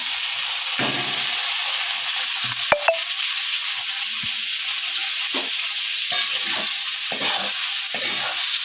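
Potatoes go into a pan of frying onions, giving a soft, steady sizzle broken by a sharp metallic clatter early on and a few brief stirring scrapes.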